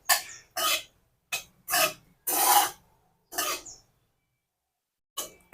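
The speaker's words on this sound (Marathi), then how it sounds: "आचेवर जवळपास चार ते पाच मिनिट आपल्याला हे तांदूळ असे परतून घ्यायचे आहे तुपामध्ये आणि सारखं उलटाण्यानं आपल्याला हलवत राहायचं आहे" Rice is stirred and roasted in ghee with a spatula, making a series of short scraping, rasping strokes separated by brief pauses, close and clear.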